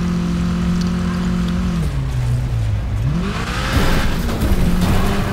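Racing cars in the video game Wreckfest roar loudly through revving engine tones that rise and fall, with shifting pitch sweeps and bursts of rougher noise suggesting impacts and scraping toward the end.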